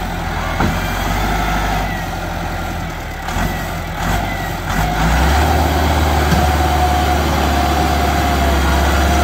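A Massey Ferguson 385 tractor hitched to a heavily loaded trolley runs its engine nearby in a continuous loud, low rumble that grows deeper and heavier about halfway through, with no voices.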